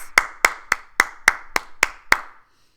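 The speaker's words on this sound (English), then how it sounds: "Now I want you to clap your hands." A person claps their hands eight times at a steady, unhurried pace during a guided morning routine; each sharp, close clap rings out alone with a short decay, and no one is talking.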